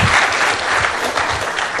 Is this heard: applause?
yes